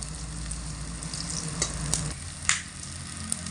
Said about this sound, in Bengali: আমি এখানে চারটে দিয়ে ভাজছি বেশি দিয়ে ভাজতে গেলে কিন্তু এগুলো ভেঙে যাবে